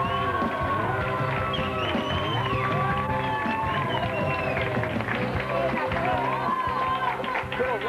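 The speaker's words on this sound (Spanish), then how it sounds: "fuerte el aplauso, ella debuta en televisión" Lively TV studio audience erupts in sustained applause and cheering for a young woman's television debut, with music or voices layered throughout the dense, loud crowd noise.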